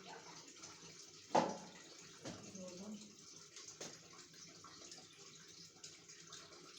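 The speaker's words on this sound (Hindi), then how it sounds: "तो पानी डालना इसके अंदर, ये देखिए।" Water poured into a cooking pot while making aloo keema salan: a soft, splashy stream with one sharper splash early on, then quieter trickling, faint and under a speaking voice.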